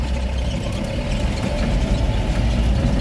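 A dump truck's diesel engine rumbles loudly and steadily up close, idling with a low throb as it begins to pull away, with no voices over it.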